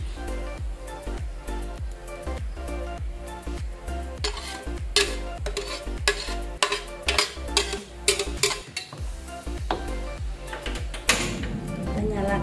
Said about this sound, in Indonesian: Kemudian kita akan menumis bumbunya yang sudah kita blender ya.